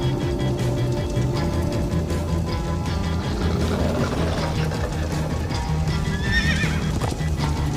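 A horse in Minecraft: Story Mode whinnies loudly over rhythmic hoofbeats and galloping, with a steady game soundtrack underneath and a shrill high neigh near the end.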